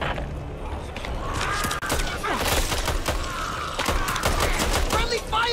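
Dense rapid gunfire fills a hectic Back 4 Blood co-op match, with overlapping bursts and sharp shots packed continuously from start to finish.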